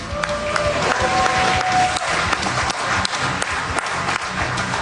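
A live audience in Duluth at a morning radio show marking Grandma's Marathon applauds and cheers, a dense steady wash of clapping and crowd noise throughout, with a voice faintly mixed in.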